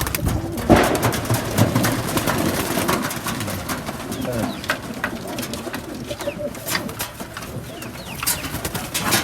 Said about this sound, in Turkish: O kadar çok güvercin var ki ben bile kafam karıştı